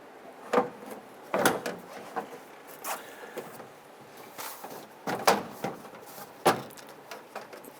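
Plastic door trim panel on a 1995-2001 Ford Explorer being pushed into place, giving a series of sharp clicks and snaps at irregular intervals over a low rustling background, close by, with no talk.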